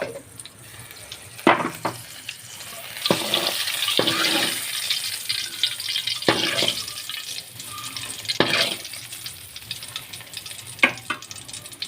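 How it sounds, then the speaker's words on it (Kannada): Hot tempering poured into boiling saaru curry sizzles and crackles steadily, with sharper bursts and stirring clatter. "ಸಾರು ಕೊದ್ದಿರುಂಡು ತೂಲೆ ಅದಕ್ಕೊಂದು ಒಗ್ಗರಣೆ ಪಾಡ್ದ"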